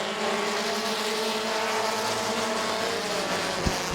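Several race cars at Midvale Speedway roar together at the green flag of an eight-lap heat race, a dense, steady engine drone with a brief sharp knock near the end.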